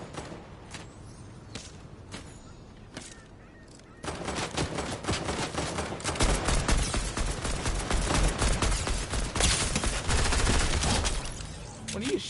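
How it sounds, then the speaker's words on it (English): Gunfire in Fortnite: a few scattered single shots first, then a sustained loud barrage of rapid automatic fire and explosions that builds and holds before tapering off, with a voice talking underneath. "What are you shooting at?"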